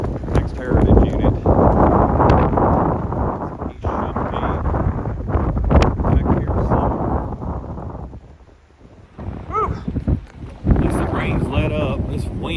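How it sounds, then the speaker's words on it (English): Strong gusts of wind buffet the microphone at a trackside railfan spot beside a CSX line, a loud continuous roar that dips briefly near the end, with a person talking over much of it. "This wind is going crazy"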